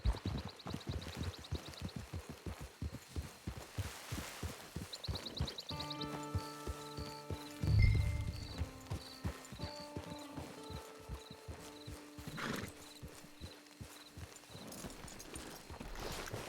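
Horse hooves clip-clop steadily in Red Dead Redemption 2, a rhythmic walking gait that continues throughout with musical tones and a brief thump mixed in.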